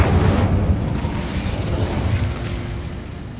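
The Incendio fire spell cast in Hogwarts Legacy, a loud, broad whooshing burst of flame that hits hard at the start and then roars and crackles steadily, slowly fading a little over a few seconds, with no talk.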